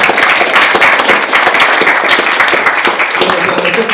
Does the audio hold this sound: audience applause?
yes